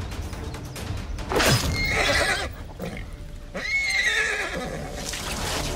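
A horse on a battlefield gives loud, close whinnies, two long neighing calls about two seconds apart, over a steady background rumble.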